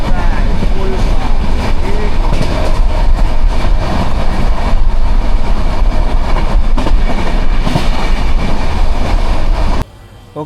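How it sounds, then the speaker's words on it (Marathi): A fast train with three locomotives coupled at the front, on a line from Mumbai: loud, continuous rumbling and rattling wheel clatter that carries on steadily, then cuts off abruptly just before the end. "ट्रेन फुल फास्ट आहे"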